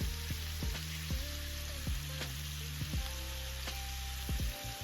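Steady crackling sizzle of meatballs frying in a little olive oil in a skillet, with occasional sharper pops and faint clinks running through the whole stretch.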